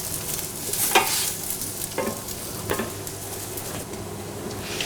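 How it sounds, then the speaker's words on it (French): Chopped shallots sweating gently in a pan without browning, giving a steady soft sizzle close by with a few sharper scraping stirs spaced a second or so apart. "on rajoute les échalotes, donc on va les faire suer sans coloration"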